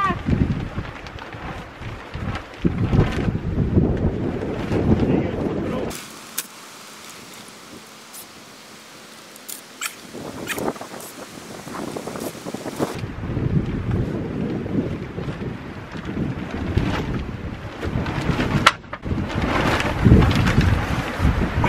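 Strong wind gusts on a goat farm, buffeting the microphone with loud, roaring bursts that drop into a quieter lull partway through before the blustery rumble returns.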